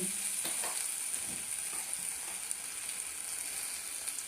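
Batter for a rice and lentil dhokla fries in a pan with a steady, even hiss of hot oil, close and moderate, with a few faint stirring scrapes early on and no talking.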